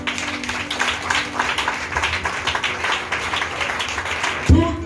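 Church congregation applauding and acclaiming the Lord, a steady dense patter of clapping mixed with voices, held at an even level for several seconds before a sharp thump at the end.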